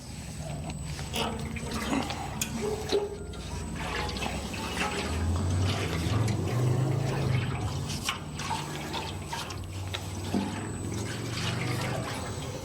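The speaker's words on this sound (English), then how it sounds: "Now we will repeatedly rotate and flip the tank to ensure the tank coating roughly covers the entire interior of the tank." FERTAN rust-treatment coating sloshes and swirls inside a metal fuel tank as it is rotated and flipped, with liquid rolling, gurgling and dripping in uneven surges, close and moderately loud.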